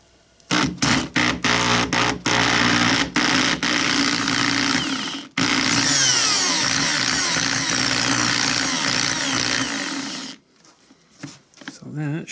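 A hammer drill running in hammer mode, on trailer work in freezing cold, loud and close, first in several short stuttering bursts, then in one long continuous run before stopping.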